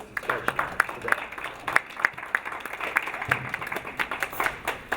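An audience at a presentation applauds, with a crowd of hands clapping in a fairly loud, uneven patter that holds steady for several seconds.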